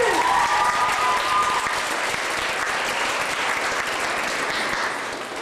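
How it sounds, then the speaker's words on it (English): Audience applause for a police division escort at a school wish-granting event in Toronto, a dense sustained round of clapping from a large crowd that holds steady and tapers slightly at the end, with a brief tonal squeal near the start. "Let's give 32 Division a round of applause."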